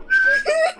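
Loud, shrill human whistling in two short melodic phrases, close to the mic and heard alone.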